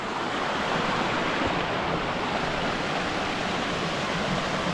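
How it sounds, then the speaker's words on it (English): A river rushes down Mount Jamo near Wolayta Sodo, Ethiopia, a loud continuous broadband roar of flowing water, steady and close throughout with no voices. "This is the river in Mount Jamo, Wolayta Sodo, Ethiopia."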